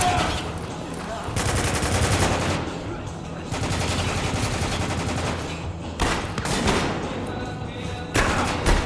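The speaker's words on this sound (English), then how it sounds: "Under heavy fire!" Heavy automatic gunfire crackles through a combat scene in Spec Ops: The Line, sustained bursts with brief pauses, loud and dense, with background music and a voice speaking over it at times.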